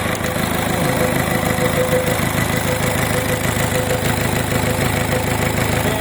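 A Komatsu PC60-7 excavator's common-rail diesel engine idles with a steady, knocking rumble, loud and close, rhythmic and unchanging throughout.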